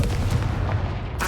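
A Confringo blasting spell goes off in a Harry Potter video game, a short loud explosive boom with a sharp burst at the end.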